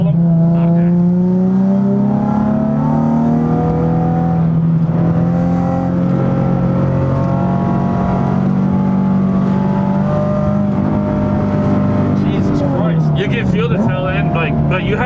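Nissan 370Z fitted with a Hotchkis sway bar driving a slalom, its engine droning steadily with rising and falling pitch as it weaves, with people talking over it throughout.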